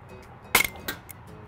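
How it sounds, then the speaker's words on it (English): An LCS Air Arms SK-19 air rifle fires one sharp, close crack over a chronograph, followed by a short metallic ring and a fainter second snap, with quiet room tone around it. "we're gonna see what happens when we fire it over the crony"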